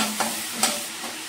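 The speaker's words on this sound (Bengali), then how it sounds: "ইলিশ মাছের ঝোল ফুটে গেছে।" Hilsa fish curry bubbling in a pan, a soft steady simmer and sizzle with a couple of faint clinks or bubbles popping, close and quiet.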